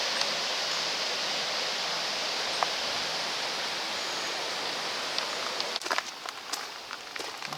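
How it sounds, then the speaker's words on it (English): A continuous soft rush of river water flowing over a small low weir, fairly even, with a few faint rustles and knocks near the end. "There's a little weir or something. It's making a little bit of nice watery noise."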